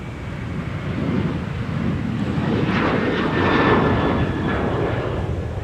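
A Delta jet airliner takes off from Minneapolis–St. Paul airport, a broad, rising engine roar heard from a distance with some wind noise and no voices.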